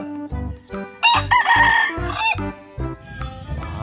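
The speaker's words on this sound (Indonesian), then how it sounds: "dari tadi berkokok terus" A rooster crows loudly and close by, one long rising-and-falling call in the middle, with fowl clucking and clatter around it.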